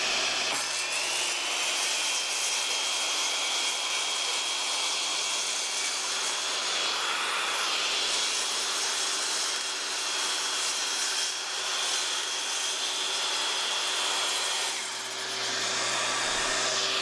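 Track saw slicing through a trim strip on a guide track, a loud steady high-pitched motor whine and cutting hiss held for the full length alongside roaring dust extraction, close up with no talk.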